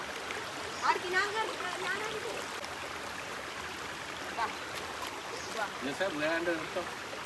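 Waterfall stream water trickling and rushing through the rock crevices of a forest homestay in Wayanad, a steady broadband wash running throughout the clip while a voice talks over it.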